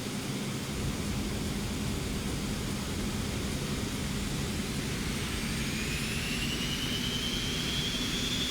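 Jet airliner thrust reversers engaged on landing at Vagar in the Faroe Islands, in X-Plane 11: a loud, steady, broadband roar that fills the whole stretch without letup.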